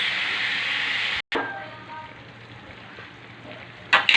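Food fries and is stirred in a pan: a loud, steady sizzle cuts out briefly, then a softer crackling hiss carries on, with a sudden burst of clatter near the end.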